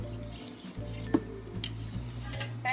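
Noodles being tossed and mixed with capsicum, cherry tomatoes and umami paste in a pan, giving soft stirring scrapes, light clinks of utensil on pan and a faint sizzle, with one sharper knock partway through.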